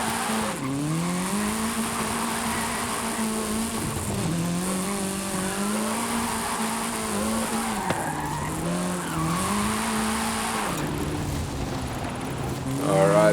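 A 1973 Alpine A110 1600S drifts in Forza Horizon 5, its tires squealing in long wavering skids over a revving engine that rises and falls through the corners, continuous and close, with someone talking over it.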